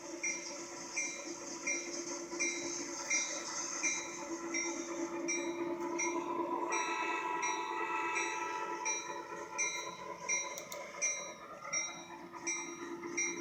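Steady rumble of a CSX freight train in Trainz simulator, with sustained tonal hum, repeating clicks of wheels over track, and brief horn-like tones near the middle.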